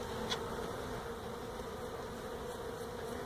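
Honey bees swarm during a hive removal in Mission, Texas, producing a dense, continuous buzz that stays steady and close throughout, with no voices.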